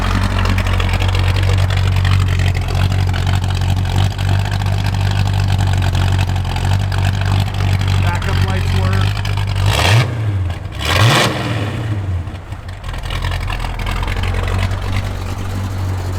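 A 1968 Pontiac GTO with a redone engine idles loudly with a steady deep rumble, then gets two quick blips of the throttle that rise and fall before settling back to idle.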